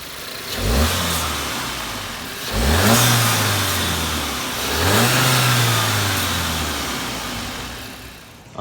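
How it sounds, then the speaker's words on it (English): A 2021 VW GLI MK7 turbo engine with the stock airbox, revved three times from idle, each rev rising quickly then falling back, loud and close with no talk. "we got a couple revs of the motor with the stock airbox"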